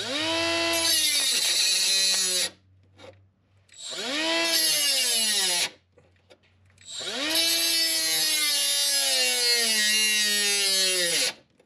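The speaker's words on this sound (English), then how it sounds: "this one die grinder for some reason gives me issues" A Milwaukee die grinder cuts metal while body mounts are replaced on a Jeep TJ. It runs loud and close in three long high-pitched bursts, its pitch dipping and recovering under load, with short pauses between them.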